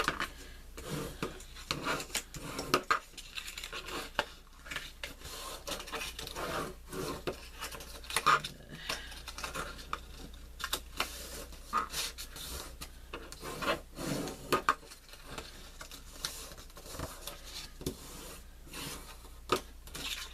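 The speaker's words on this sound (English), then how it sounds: "first we're going to score on all, fold on all the score lines" Paper for a stationery folio is folded along score lines, giving soft, irregular rubbing and creasing sounds with occasional crisp taps, close and fairly quiet, with no talk.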